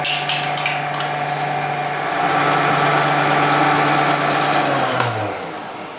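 An electric mixer steadily beating yogurt into blueberry muffin batter, a loud continuous whirring drone with a slight change in pitch partway through before the motor winds down at the end.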